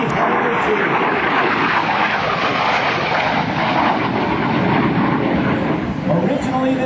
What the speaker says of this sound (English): here comes your United States Marine Corps AV-8B Harrier 2.